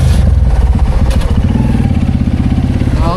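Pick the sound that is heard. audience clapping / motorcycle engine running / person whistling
motorcycle engine running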